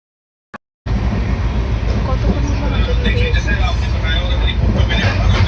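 A steady loud rumble of a moving train fills the clip after a brief click, with rattling and clatter over the continuous roar.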